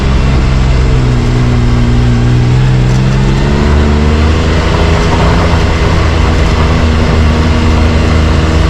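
A Can-Am Maverick X3 Max side-by-side with a rear windshield installed drives steadily, its engine a loud continuous drone with tonal rises as it revs, heard from inside the cab.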